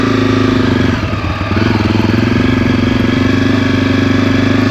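A stock Honda CRF250F trail bike idles close by, its engine running in a steady, even low putter with a brief dip partway through, alone with no talking.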